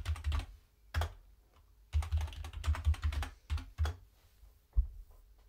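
Quick, close bursts of keystrokes as a terminal command is typed on a computer keyboard, with short pauses between the clusters of clicks, in a quiet room with no talking.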